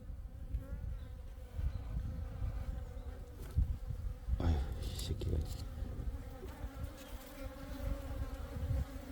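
Korean native honeybees buzz steadily around their hive in a continuous low drone, with a few louder passes close by as individual bees fly near.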